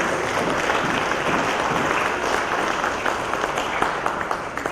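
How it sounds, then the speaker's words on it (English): Sustained audience applause for panelists at a cotton industry conference, a steady dense wash of clapping from a seated crowd lasting throughout with faint voices mixed underneath. "I would like to give a big applause to all of us panelists."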